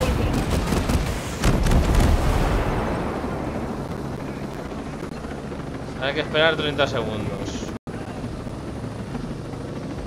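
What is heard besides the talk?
helicopter in video game Ghost Recon Breakpoint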